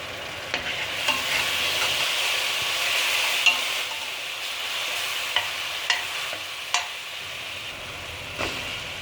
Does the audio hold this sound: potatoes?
yes